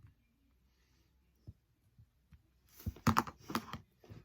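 Scissors cutting paper up close while trimming colored artist trading cards: a few faint clicks, then a quick cluster of crisp snips and rustles, with no talking.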